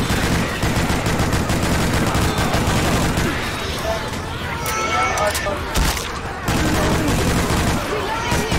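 Dense, loud gunfire from Left 4 Dead 2 rattles almost without pause, rapid shots stacking into a sustained barrage with one short lull near the end, while voices chatter underneath.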